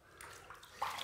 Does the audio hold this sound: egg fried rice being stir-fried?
no